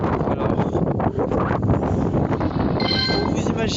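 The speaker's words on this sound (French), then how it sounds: "le vent est très froid et sec en fait" Cold, dry wind buffets the microphone outdoors in a constant rough roar, loud and unbroken, with a faint tonal whine rising near the end.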